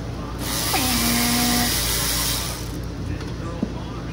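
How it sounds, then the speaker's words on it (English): A Snap-on electric ratchet removing bolts from a 2009 Lexus LS460 engine bay during valve cover work: one close, loud motorized whir of about a second, a sharp click near the end, and a faint background hum. "Go ahead and get your snap-on electric ratchet out."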